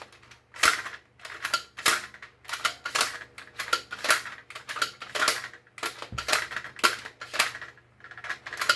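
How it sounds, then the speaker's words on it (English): Repeated mechanical clacks and ratchet snaps as the draw of a Zuru X-Shot Reflex 6 toy revolver blaster is pulled back and released over and over, close and fairly loud, in an uneven rhythm with no talking. "Pull the draw, make sure it's working well."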